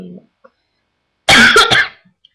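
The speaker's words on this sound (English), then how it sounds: "really bad cough. I'm gonna try and contain" A bad cough bursts out up close, loud and harsh in a quick cluster of three rough hacks lasting under a second, after a near-silent stretch with only a faint brief sound at the start.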